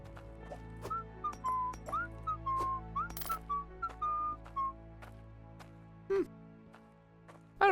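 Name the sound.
character whistling in Hydroneer video game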